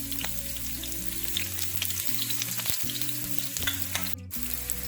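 Onions frying in hot oil in a wok, producing a continuous close crackling sizzle with scattered pops and stirring scrapes, moderately loud with no voices.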